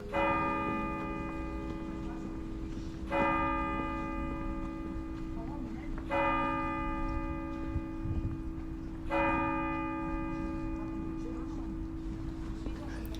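A deep church bell tolls slowly from a 74-metre tower in the Saarland region, four strikes about three seconds apart, each ringing out with a long resonant hum, heard under faint talking.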